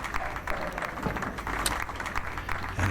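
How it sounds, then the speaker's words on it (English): Audience clapping in encouragement for a bowler at a professional bowling tournament, steady applause spread across the hall and continuing throughout under arena ambience. "the clapping of encouragement for Rius here"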